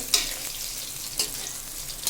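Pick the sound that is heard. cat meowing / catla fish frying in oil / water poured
catla fish frying in oil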